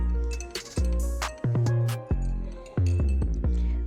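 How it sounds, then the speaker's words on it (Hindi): A spoon clinks sharply against a glass while honey is stirred into lemon water, several bright, ringing taps close to the mic at an uneven pace. "अब इसको अच्छी तरह मिक्स करना है"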